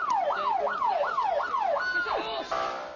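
An ambulance siren wails in a rapid rising-and-falling pattern, repeating about five times before it shifts to a longer tone, loud and fairly close.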